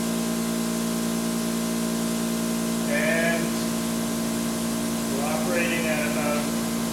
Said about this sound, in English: Now we are in conventional generator mode.